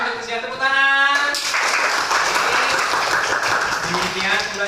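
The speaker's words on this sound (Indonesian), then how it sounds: "Tepuk tangan." A class of students claps together during an Indonesian school lesson, a burst of hand clapping that starts after a short sung or spoken cue and continues steadily and fairly close for several seconds.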